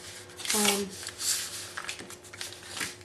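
Knife cutting sponge cake into cubes, soft repeated squishing and muffled taps against the board in an irregular rhythm, close and quiet, with a voice speaking over part of it.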